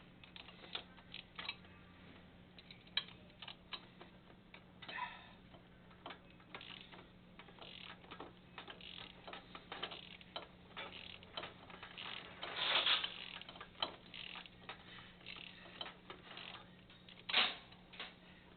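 A 13 mm ratchet clicking as it backs a bolt out of a shock's stroke limiter, with quiet, close, irregular pawl ticks in short bursts and a couple of louder clacks near the end.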